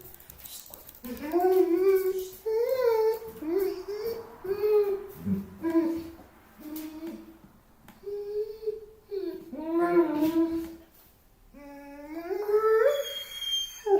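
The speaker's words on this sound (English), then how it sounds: "My puppy dog is back" A puppy howls and whimpers in a long series of rising, wavering cries, loud and close, with short pauses between howls and no barking evident.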